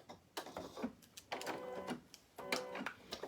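An embroidery machine tacks down pieces of fabric, its needle running in quiet bursts of rapid mechanical stitching separated by brief pauses.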